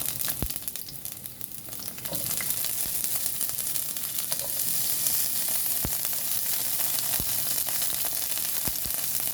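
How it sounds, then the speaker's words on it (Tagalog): Garlic and onion sizzle steadily in a hot pan, a bright continuous frying hiss that swells after a couple of seconds, broken by a few sharp clicks of utensil against pan, with no one talking. "Igisa lang natin."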